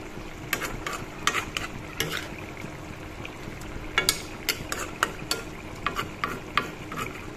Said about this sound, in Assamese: এতিয়া তল ওপৰ কৰি লৰাই দিলো